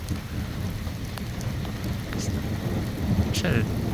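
Strong thunderstorm in rural Nebraska, with steady heavy rain hissing close to the microphone and brief crackles of distant thunder, continuous throughout.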